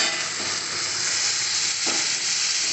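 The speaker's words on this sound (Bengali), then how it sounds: "এবার মুগটা দিয়ে দিলাম" Moong dal tossed into fried spices in a pan for a vegetarian butter tadka, a loud continuous sizzle with stirring scrapes through the short stretch.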